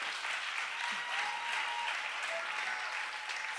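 A congregation applauding in praise at a church gathering, a steady, dense wash of clapping that fills the whole stretch without pause, with no voice standing out.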